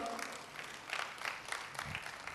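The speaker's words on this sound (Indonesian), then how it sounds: "Para wanita tepuk tangan dulu dong." Women in a church congregation clap together in a steady, fairly dense round of applause, heard at moderate distance in a large room with some background murmur.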